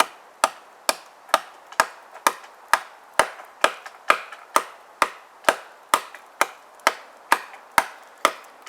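A replica stone knife chops and chips into wood in a steady series of about twenty sharp, close knocks, each strike loud and dry with a short ring-out, spaced evenly under half a second apart with no talk.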